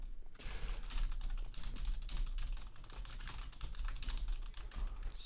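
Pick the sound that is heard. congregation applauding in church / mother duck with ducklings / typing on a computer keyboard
typing on a computer keyboard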